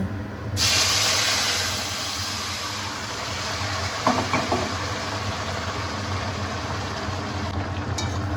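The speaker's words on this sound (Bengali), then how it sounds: "ঠিক তখনই ঝিঙে আলু দিয়ে মাছের ঝোল এই ফোড়নের মধ্যে ঢেলে দেব" Fish curry with ridge gourd and potato hits hot tempering in a sudden loud hiss that settles into a steady bubbling sizzle, close, with a few faint clinks and no voices.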